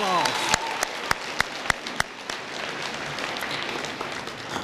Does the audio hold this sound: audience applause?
yes